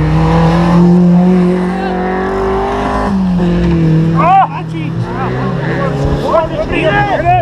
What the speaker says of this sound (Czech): Počkej, jede auto.